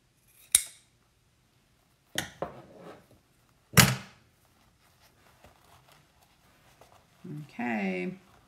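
Scissors cut a V shape into a burlap canvas with three sharp, separate snips, close and fairly loud, then a short stretch of quiet handling and a brief voice at the end.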